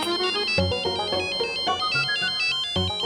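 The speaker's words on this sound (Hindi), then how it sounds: "अरे पेरिस से फोन है" A melodic phone ringtone signalling an incoming call plays loud and steady, a bright electronic tune of repeated notes with no voices over it.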